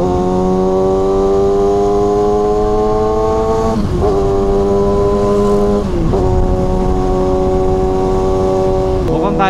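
A Kawasaki ZX6R sport motorcycle being ridden, its steady, loud engine drone holding a constant pitch with a few brief dips as the throttle eases and picks up again.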